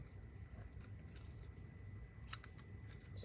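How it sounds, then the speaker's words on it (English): Paper snips cut through paper in a quiet room, a few faint dry snips followed by one sharp close crisp cut near the end. "now I'm going to take my paper snips"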